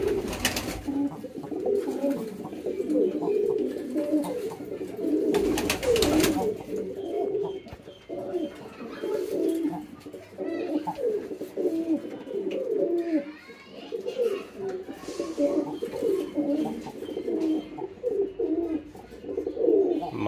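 Lakka (fantail) pigeons coo repeatedly in a loft, a close run of soft, throaty rolling calls that continues throughout, with a few brief bumps and a voice faintly in the background.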